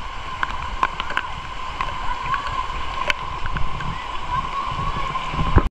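Waist-deep, muddy floodwater rushing in a river, with splashing and churning as someone wades through the current; the flow is loud, steady and close for the whole stretch.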